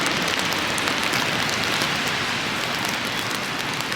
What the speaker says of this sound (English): I think I bring the rain, apparently